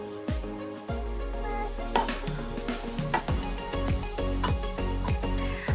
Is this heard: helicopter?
no